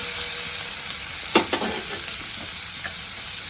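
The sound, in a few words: tomatoes added to frying onions, sizzling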